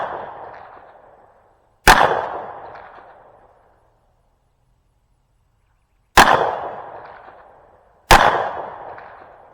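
Pistol fired at an outdoor shooting range, three loud sharp shots spaced seconds apart, each with a decaying echo tail, with no speech between them.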